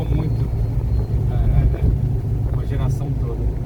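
Low, throaty engine rumble of an air-cooled 1970s Volkswagen Fusca (Beetle), a 1600 from 1976 or a 1500 from 1973, steady and close while someone talks over it.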